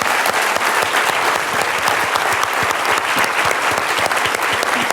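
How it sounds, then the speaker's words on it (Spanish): Steady, dense applause from a seminar audience fills the room, loud and even throughout with no pauses. "Les pido un gran aplauso por ellos."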